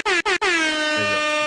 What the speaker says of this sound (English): I also just threw in some actual recordings like the ever popular air horn